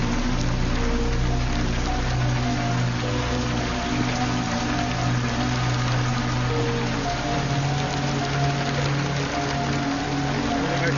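Steady rain pours down without a break, forming a loud, even hiss with a low hum underneath and no one speaking.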